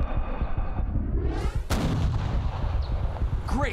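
A rifle is fired while hunting, giving one loud, close gunshot about halfway through that booms and echoes away. A softer rumble of movement comes before it, and nobody speaks.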